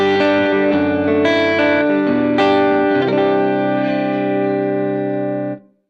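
A Strymon Iridium amp and cab simulator voiced as a Fender Blues Jr. cabinet carries electric guitar chords, loud and upfront, shifting through a short progression before a final chord rings out and cuts off, with no voices.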